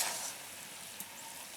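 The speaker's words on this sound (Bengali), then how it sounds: "চালটাগুলো চিনি রসে ফুটে ফুটে দেখুন একটু লালচে কালার হয়ে গেছে" Chalta fruit boils in sugar syrup for a village-style sweet and sour pickle, giving a soft, steady bubbling hiss with a faint pop partway through, quiet and without any speech.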